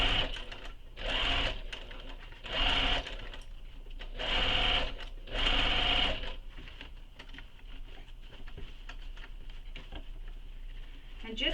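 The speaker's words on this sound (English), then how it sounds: "You're just sewing through your lining and your lining gusset." Sewing machine stitching through a bag's lining and lining gusset, running in several short bursts separated by pauses, fairly close, with a person speaking between the runs.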